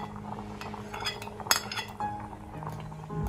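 A spoon stirs century egg and shiitake congee in a cooking pot, giving light metallic clinks and scraping against the pot over a soft simmering background, close by and with no voices.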